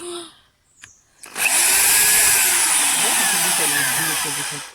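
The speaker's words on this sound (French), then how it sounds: "Donc là, il va essayer avec la perceuse." A power drill bores small holes in wood while wooden rings are made. After a brief quiet start with a couple of light knocks, the drill's loud, steady whine runs continuously, close to the microphone.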